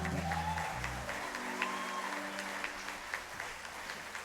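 A crowd claps steadily, a dense patter of applause at moderate volume that continues throughout without pause.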